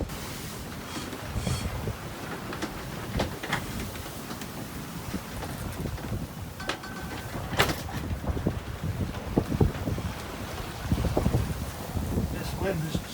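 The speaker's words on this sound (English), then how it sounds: "This wind is just the wrong direction for us, really." Wind gusting across a sailboat under sail with the engine off, a steady broadband rush with intermittent buffeting on the microphone, water noise beneath and occasional creaks and knocks aboard.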